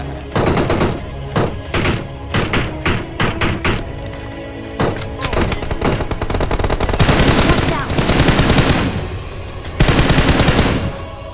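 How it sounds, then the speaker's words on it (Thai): Rapid video game gunfire in a firefight at a seaside practice map, dense bursts and single shots loud and close throughout, with faint voices underneath. "นอกวงมียิงมานะพี่วัด"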